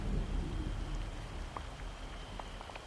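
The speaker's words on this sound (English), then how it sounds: "It's raining." Rain falling in the video game Disney Dreamlight Valley, a soft steady patter with scattered light droplet ticks, quiet and continuous with no talking.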